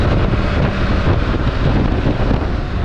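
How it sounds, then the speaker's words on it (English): Steady roaring wind buffets the microphone while a BMW K1600B motorcycle rides at speed, a loud, continuous broadband rush with no pauses. "The lower half lets too much wind by. You can hear it in my mic."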